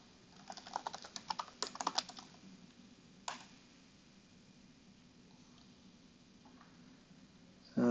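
Typing on a computer keyboard: a quick cluster of close, crisp key clicks, a lone keystroke after a pause, then faint scattered taps in a quiet room.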